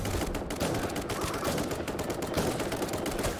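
Rapid, continuous gunfire in the video game Bullet Bonanza, a dense rattling stream of shots at steady loudness throughout, with no speech.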